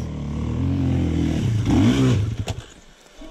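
A Beta 200 dirt bike engine revving on the throttle on a hot day. A close, loud, rough two-stroke drone swells and peaks, then drops away with some clattering near the end.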